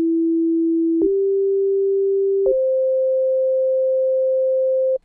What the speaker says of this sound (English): We can take a closer look at the harmonic behavior of the Dist TUBE Culture by running a sine wave